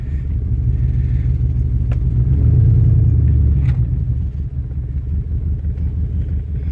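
A 2002 Dodge Durango 4.7L 4x4 idling low and rough, a steady deep rumble that swells briefly midway then settles, heard close with no talking.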